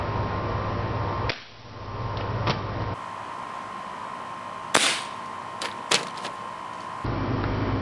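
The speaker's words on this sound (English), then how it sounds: "We shot it again using 10 pumps and a pointed pellet" A Crosman 760 Pumpmaster air rifle fires a pointed pellet after ten pumps, giving a sharp snappy crack midway, followed by a few lighter clicks and knocks over a quiet background hum.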